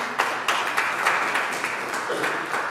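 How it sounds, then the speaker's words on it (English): An audience at a school long service awards ceremony applauds an award recipient walking up, steady moderate clapping from many hands in a hall, heard at some distance and sustained throughout. "Would you clap her while she comes up, please?"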